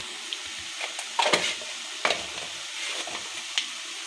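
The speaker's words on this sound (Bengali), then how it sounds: "পেঁয়াজ বাটা দিয়ে খানিকক্ষণ নাড়িয়ে নিতে হবে যেন পেঁয়াজের কাঁচা গন্ধটা না থাকে।" Onion paste and spices are stirred in a hot pan, giving a soft sizzle broken by a few scraping strokes of the spoon against the metal, close by and with no talking.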